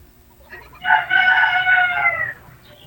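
A single rooster crows loudly and clearly, one drawn-out call lasting over a second, standing out against a quiet background.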